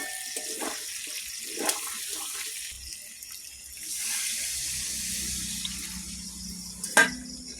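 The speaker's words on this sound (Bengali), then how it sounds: "এমনভাবে মাংস রান্না করতেছি কষাই হয়ে গেছে এবারে জল দেবো" Water pours into a pot of chicken curry, a running, gushing splash that swells midway and fades, with a faint clink near the end and no talking.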